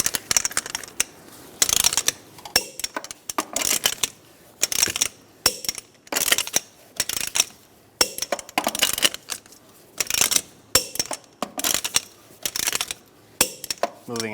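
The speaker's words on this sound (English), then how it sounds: "I'm going to torque the wheels to 100 foot-pounds" A torque wrench tightens the wheel lug nuts on a 2007-2012 Nissan Altima to 100 foot-pounds, giving repeated sharp ratcheting clicks in short bursts, close by, with brief gaps between nuts.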